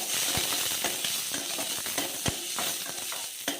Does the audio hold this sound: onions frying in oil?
yes